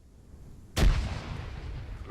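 A grenade goes off in a military video game, a single sharp, heavy boom followed by a rumbling tail, loud and close.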